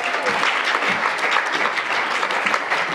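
Audience applause at an awards gala: steady, dense clapping from a full room, loud and sustained throughout with no talk over it.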